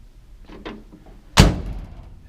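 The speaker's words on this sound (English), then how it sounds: "Nice solid door thud" A single solid thud as the door of a 1947 Dodge WD-20 truck swings shut, close and loud after a few faint handling clicks, then a short low rumble fading out.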